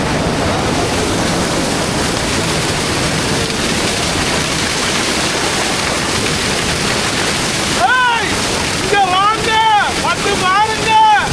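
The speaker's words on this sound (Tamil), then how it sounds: "தண்ணி வந்து வேகமாக வந்து மண்டையில் விழுகுது" Loud, continuous rushing water roars close by. Excited voices with rising and falling tones break in over it near the end.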